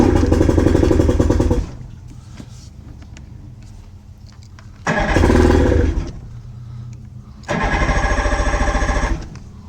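A 1993 Johnson 40 hp outboard engine on a boat cranks and catches in three loud bursts, each roaring and revving for about two seconds, separated by quieter idle-like gaps.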